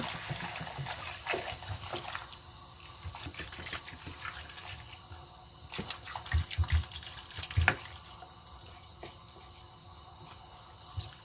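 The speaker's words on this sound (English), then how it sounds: "Add some water and let it cook well." Water poured from a tap or jug into a pot of pumpkin soup, a steady splashing trickle with a few louder splatters near the middle and no talk.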